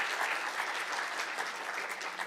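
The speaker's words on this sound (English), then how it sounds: "Yes, a round of applause." A round of applause at an awards presentation during a summit showcase, steady dense clapping from an audience held evenly across the whole stretch, moderately distant with no voices over it.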